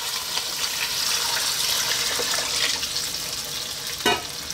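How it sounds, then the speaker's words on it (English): Tap water runs steadily into a soup pot of chicken as it fills, a continuous hissing stream close by with a brief louder splash near the end and no voices. "we're gonna get some liquid in there. I'm gonna use water."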